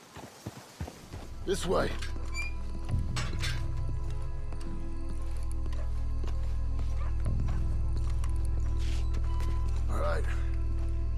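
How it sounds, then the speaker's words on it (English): Horses walk along in a video game, their hooves clopping in an irregular rhythm at moderate distance, with a snort or two, a dog barking briefly, and characters talking over the steady ambient background. "Let's hitch the horses up ahead."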